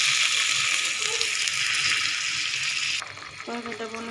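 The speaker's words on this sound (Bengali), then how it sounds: "আলুটা আমি ভালো করে মশলার সাথে কষে নেব।" Potatoes frying with spices in a pan for a hilsa fish curry, a steady loud sizzle for about three seconds, then quieter bubbling with faint clinks as it settles.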